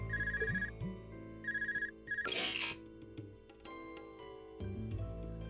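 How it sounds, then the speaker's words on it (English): Phone ringtone in the Trails of Cold Steel video game, repeated short electronic trilling bursts in a steady pattern over soft background music, with a brief noisy swoosh midway. "Phone ring."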